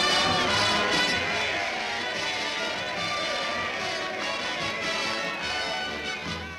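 A hometown crowd cheers a soldier returning from the front in a Looney Tunes Private Snafu cartoon, with a brass band nearby. The dense, steady roar of voices and music holds loud and full throughout.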